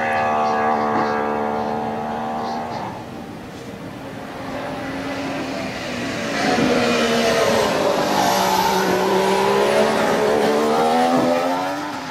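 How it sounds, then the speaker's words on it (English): A 2014 Mercedes-Benz 1.6 litre V6 turbo hybrid Formula One car accelerates at a festival of speed, its engine note rising in clear stepped gear pulls, loud and sustained, with a crowd murmur underneath. "Now here is our first glimpse of the Mercedes-Benz hybrid car."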